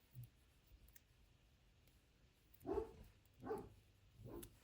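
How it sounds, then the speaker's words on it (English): A few faint dog barks a short way off, three spaced woofs following a quiet single yip, over a soft room background. "He's barking at the neighbour's dog."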